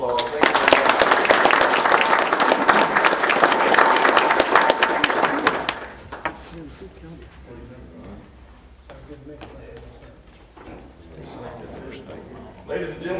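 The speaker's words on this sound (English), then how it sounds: "Ladies and gentlemen, please give them a round of applause." Applause from an audience at an office installation ceremony, loud and dense for about six seconds, then fading into quieter crowd murmur and scattered claps with some talk.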